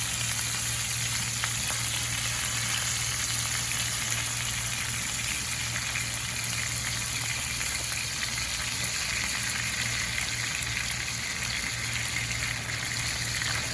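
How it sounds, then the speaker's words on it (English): A steak sizzles loudly and continuously in a pan as compound butter melts and bastes it, a dense, steady crackling hiss with a low hum underneath. "Now I'm gonna add some of the compound butter right in the pan and let that just baste for a little bit"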